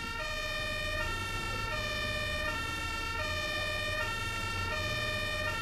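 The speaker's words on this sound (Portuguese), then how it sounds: "Ambulância?" A two-tone ambulance siren in the bus simulator game OMSI 2 alternates steadily between high and low pitches, fairly loud over a low rumble of traffic.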